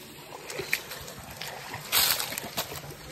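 Someone splashes into the Bhutera river while swimming, a short burst of churning water rising out of a background of flowing current and small sloshes, fairly close.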